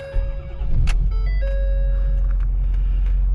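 A 2012 Ford F550 Super Duty XLT diesel truck with high mileage warming up on ultra low sulfur diesel, its steady low idle droning close by while dashboard chimes and beeps ring out over it.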